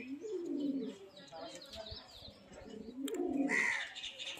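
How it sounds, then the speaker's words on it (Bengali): Pigeons of a kept breeding pair coo in low, repeated throaty rolls at close range, with light chirps mixed in and people talking nearby. "দেখে মনে হয় সব এক লাইনের পায়রা"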